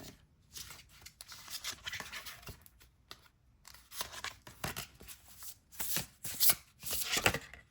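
A deck of tarot cards being handled and shuffled at a reading table, with repeated crisp riffling and sliding bursts in irregular clusters. The sound is close and fairly quiet, with no talk.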